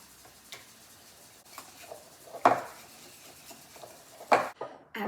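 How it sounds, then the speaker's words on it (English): Soy sauce whisked into Skippy peanut butter in a bowl, a chili crisp noodle sauce, sounding as a few scattered clinks and taps of a whisk against the dish amid quiet, with two sharper knocks near the end. "1/3 cup of soy sauce, and we're just going to whisk that."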